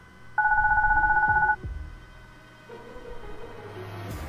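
A baby phone monitor rings in the video game Goodbye Deponia: a steady electronic two-tone ring that lasts about a second, then stops and leaves quiet background sounds.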